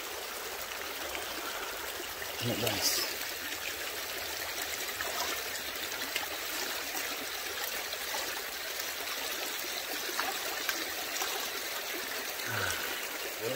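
Shallow river water flows and trickles steadily over stones in Exmoor countryside on a hot day, a continuous near babble with a brief spoken remark over it.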